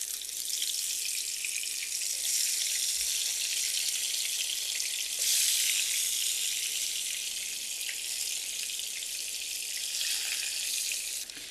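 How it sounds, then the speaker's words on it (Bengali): Eggplant and tomato frying in oil in a frying pan, a steady, close, hissing sizzle that runs unbroken with a brief swell in the middle. "বেগুন আর টমেটোটা আমি ভাজতে চলে আসলাম। ফ্রাই প্যানে কিছুটা তেল দিয়েছি।"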